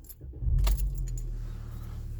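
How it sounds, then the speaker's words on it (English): Car keys jangle sharply as they go into the ignition of a 2014 Chevrolet Impala with a failed rear object module, a brief close metallic rattle followed by a low steady cabin hum. "Keys in ignition."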